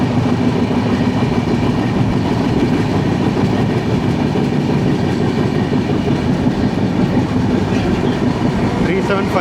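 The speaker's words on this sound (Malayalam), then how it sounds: "ലാൽബാഗ് എക്സ്പ്രസ് ആണ് പോകുന്നത്." Lalbagh Express passenger train passing on an Indian railway line near the Chennai–Bangalore highway, a steady loud rumble of wheels and carriages rolling by close, with continuous rail noise throughout.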